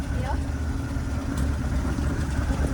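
An abandoned Boogie Van's engine idles rough and rattly with a possible misfire, a steady low churning drone close by that continues throughout with no pauses.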